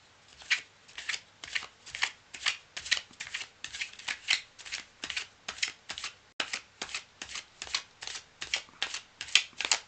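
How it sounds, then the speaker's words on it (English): Tarot cards shuffled close up in a steady run of about twenty crisp riffling bursts, evenly spaced roughly every half second, with no one speaking. "All right, we're shuffled up."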